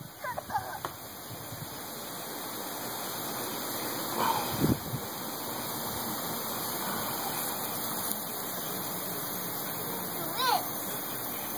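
A water sprinkler sprays continuously in a steady hiss as a child plays in it outdoors, with occasional splashes and voices breaking through.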